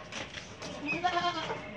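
A goat bleats in a wavering cry on a rooftop livestock setup with Beetal and Cheeni goats and kids, close and fairly loud.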